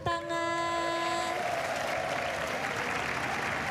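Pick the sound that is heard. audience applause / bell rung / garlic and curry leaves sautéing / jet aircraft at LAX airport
audience applause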